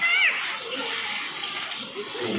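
Water splashes loudly and steadily from the seven spouts of the Pancuran Tujuh spring in Tasikmalaya, a close continuous rush with faint voices mixed in.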